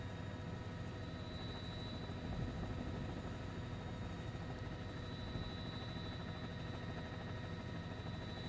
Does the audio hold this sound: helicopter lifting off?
yes